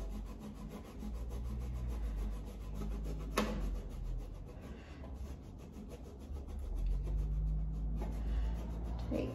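Rubbing a cloth or pad over white paint on a wooden piece to reveal the darker colour beneath, a soft, steady scratchy friction sound close to the mic with a low background hum.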